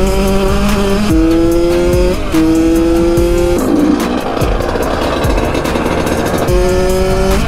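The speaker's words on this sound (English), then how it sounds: "We got the dirt bikes out today." Two Honda CRF125 dirt bikes ripping around off-road, loud close engines revving up and down in rising and falling pitch steps with repeated throttle bursts, no talk.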